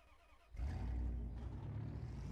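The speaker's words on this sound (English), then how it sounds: "Very nice sound to this Jeep." A Jeep engine starts up in the Spintires off-road game: a quiet lull, then an abrupt crank into a loud, throaty idle that settles into a steady rumble.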